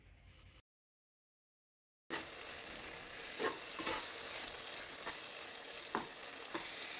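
Fried rohu fish chunks stirred and tossed through thick masala in a hot pan, giving a steady close sizzle with a few louder scraping stirs, after a brief silent gap at the start.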